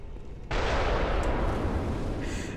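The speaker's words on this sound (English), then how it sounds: "Undead giant with a cannon." In the Bloodborne video game, an undead giant's cannon fires with a sudden loud, sustained blast that booms and rumbles alone for a couple of seconds.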